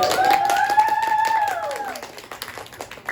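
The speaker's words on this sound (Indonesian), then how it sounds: "Tepuk tangan ya." An audience claps at a stand-up comedy show. A short burst of scattered applause rings out close by, with a whistle over it, then fades within a few seconds.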